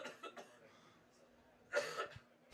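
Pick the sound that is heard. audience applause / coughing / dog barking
coughing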